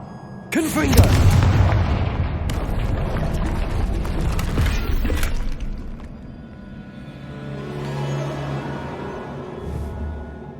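A Bombarda blasting spell goes off in Hogwarts Legacy as a loud booming explosion, then a long rumbling roar fades into softer game ambience.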